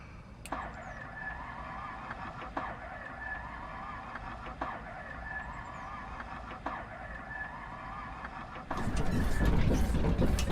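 Grumman Goose aircraft engine starting in Microsoft Flight Simulator: a steady low cranking hum runs for several seconds, then the engine catches and jumps to a much louder, fuller roar near the end.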